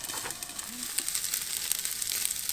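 Food cooks in oil in a pan over low heat, giving a soft, continuous sizzle with faint crackles and light clicks, fairly close and quiet.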